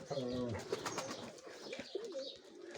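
Mykolaiv pigeons, a tumbler breed, coo nearby in soft, throaty rolling calls, with brief voices and background clatter mixed in.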